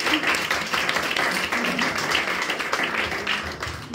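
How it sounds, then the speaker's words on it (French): A small group claps steadily for several seconds, moderately quiet and fairly even, with faint murmuring voices mixed in. "Parce que je peux vous applaudir."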